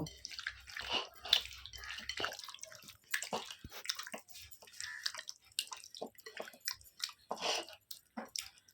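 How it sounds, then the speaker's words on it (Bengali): Chicken is worked by hand into its marinade, giving soft, wet squelching and slapping sounds in irregular bursts, close and fairly quiet, with no talking. "এবার আমি সবটাকে ভালো করে মেখে নেব"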